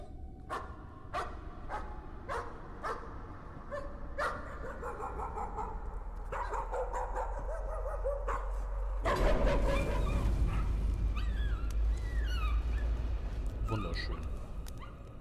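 Dog barks and yelps ring out in a repeated, evenly spaced series inside the horror game Layers of Fear, then give way to whimpering and denser noise, all under steady talk.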